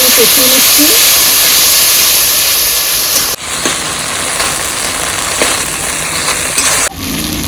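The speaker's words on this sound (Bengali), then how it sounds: "বাটা মশলাটাও দিয়ে দিচ্ছি একটু জল দিয়ে আমি কষিয়ে নিচ্ছি" Spice paste frying and sizzling with a little water in a pan for a Bengali shol fish and winter cauliflower curry, a loud continuous hiss that dips briefly partway through.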